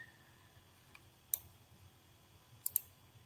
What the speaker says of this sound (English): I clicked on something completely incorrect